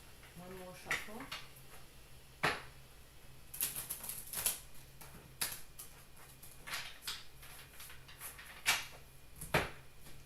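Tarot cards being shuffled by hand in a quiet room, with soft papery riffles and several sharper slaps of the deck landing, fairly close and moderately faint.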